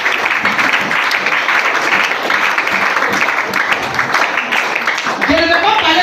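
A church congregation at a prayer seminar claps steadily and cheers together, loud and continuous, with voices mixed into the applause.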